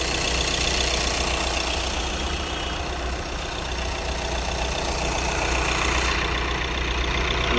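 Audi A6 engine idling just after starting, at a workshop, the car having a long-starting problem with fault code P0322 and a replaced crank sensor; a steady, close, continuous engine hum with no speech.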